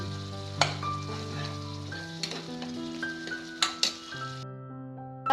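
Chicken soup ingredients, including split green chilies, sauté in a hot pan with a steady sizzle and stirring, broken by a few sharp utensil clinks against the pan.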